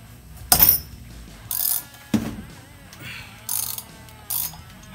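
A ratchet clicks in short bursts on a tight sprocket that is being unbolted on a rusty part, with quick pawl clatter and brief pauses between pulls.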